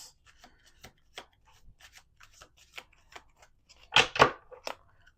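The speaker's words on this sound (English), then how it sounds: "One more shuffle." Tarot cards being shuffled by hand, with soft scattered riffles and rustles that build to two louder bursts of card flutter near the end, close and quiet with no talking.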